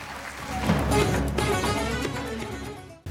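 An audience applauds to welcome a speaker at a culture festival in Soran, a sustained crackle of many hands clapping at moderate distance that stays steady for about three seconds before breaking off abruptly.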